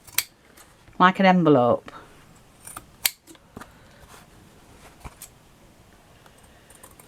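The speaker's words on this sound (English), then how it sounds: "Don't cut right to the edge. Find out where your edge is and just give it a snip." Scissors snip paper for a desktop tidy box craft, giving a few sharp, isolated cuts spaced apart in a quiet room, after a brief spoken phrase.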